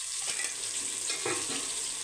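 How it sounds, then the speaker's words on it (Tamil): A dish simmering on a home stove for a birthday meal, giving a steady bubbling sizzle with a few soft clinks and stirring scrapes, close and alone with no talk. "இதை நல்லா கொதிக்க வச்சுட போகிறேன்"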